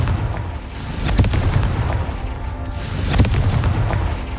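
Two Confringo blasting-spell explosions boom in Hogwarts Legacy, each a sharp, loud burst with a rumbling tail, spaced about two seconds apart over a busy game background.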